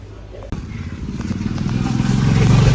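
A Yamaha R15 motorcycle ridden along an outdoor road, its engine note steady and slowly building in loudness under wind noise, with a voice talking over it.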